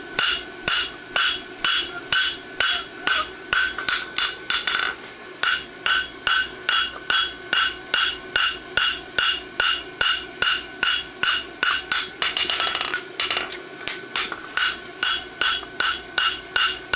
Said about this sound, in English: Now I'm forging.